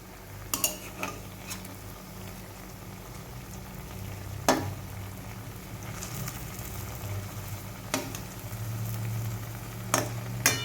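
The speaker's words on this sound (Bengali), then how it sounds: "আমি এগুলো হালকা লাল করে একটু ভেজে নেব।" Potol (pointed gourd) koftas frying in oil over a medium gas flame, a steady low sizzle with occasional clinks of a utensil against the pan.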